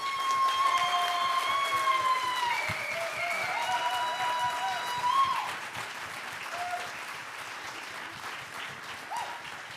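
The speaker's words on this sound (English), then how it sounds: "please give it a massive round of applause for Sydney and his team" An audience gives a round of applause for Sydney and his team at a closing session, a steady patter of many hands with high wavering tones gliding over it early on, tapering off in the second half.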